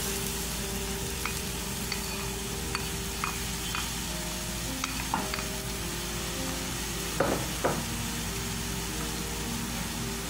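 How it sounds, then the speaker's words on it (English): Rice added to a sizzling pot for yellow and green split peas rice: a steady loud hiss of frying with a few stirring scrapes and clinks, constant throughout with no talking. "I'm going to add the rice."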